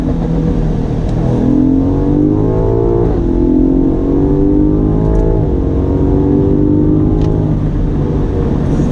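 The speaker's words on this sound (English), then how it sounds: "When you downshift, you get some nice pops coming out of that exhaust." A 2019 BMW M5 Competition engine revs up through several rising pulls with quick downshifts between them, loud and close, with faint sharp exhaust pops at the breaks.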